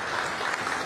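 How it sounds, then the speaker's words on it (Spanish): Brief burst of applause from an audience at a press conference with President Bukele at La Reforma prison, steady dense clapping throughout a short moment with no voices on top. "Un aplauso para el señor Bukele"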